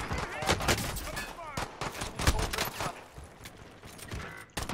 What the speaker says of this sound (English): he had a machine gun